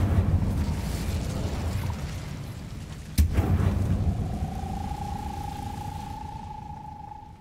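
In the video game Hogwarts Legacy, an Incendio fire spell is cast with a sudden sharp burst over a rumbling background, followed by a steady fading tone.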